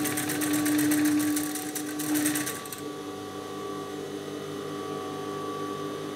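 A sewing machine running fast as it stitches a thin seam on a chiffon sleeve, a steady whirring hum that stops partway through and leaves a faint background drone.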